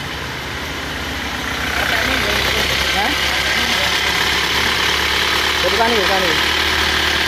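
Isuzu Panther Touring Matic diesel engine idling roughly after a liner replacement, a steady loud clattering rumble that swells slightly partway through, with someone speaking briefly over it.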